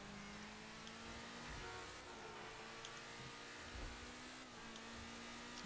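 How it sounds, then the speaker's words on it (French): In GTA V, a quiet electric car drives along with a low, even hum and faint whine, held steady with slight swells, and no voices. "Une voiture électrique qui fait pas trop de bruit."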